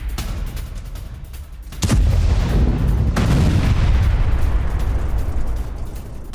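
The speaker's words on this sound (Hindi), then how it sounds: "हमले के बाद हथियार डिपो में विस्फोट हो गया।" Explosions go off at a Russian weapons depot after a MiG-29 strike: a sharp distant blast, then a long, heavy rumble with a second crack as detonations roll on before easing.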